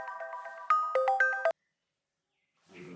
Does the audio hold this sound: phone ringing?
yes